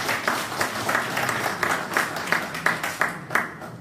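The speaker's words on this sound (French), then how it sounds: "Sous vos applaudissements, s'il vous plaît." Applause rises at an MLC political party meeting, a steady, moderately loud patter of many hands with a few sharper individual claps standing out, slowly thinning near the end.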